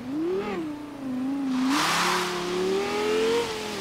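Car engine in Forza Horizon 3 revving toward 10,000 rpm, a loud, close, tonal engine note that rises, dips and climbs again in smooth sweeps, with a brief burst of hissy noise partway through and no talk.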